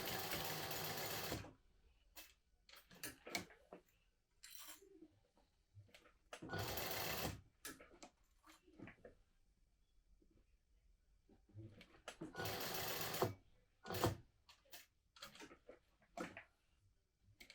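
A sewing machine stitches a panel onto a modified Trailblazer in three loud close bursts, with quieter clicks and handling noises between the runs.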